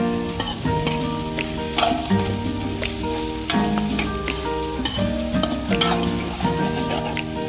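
Seasoning is stir-fried in a pan for a snake soup, giving a steady sizzle with scraping stirs over a continuous bed of background music.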